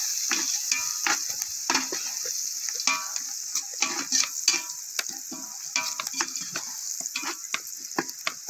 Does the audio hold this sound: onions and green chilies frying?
yes